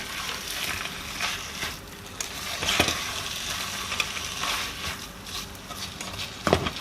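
Tuna bake filling sizzles and fries in an open pan, a dense continuous hiss with occasional stirring scrapes and a sharper clack near the end, close and steady with no speech.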